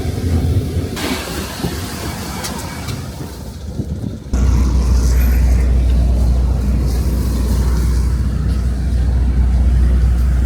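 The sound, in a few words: city bus in Moscow at night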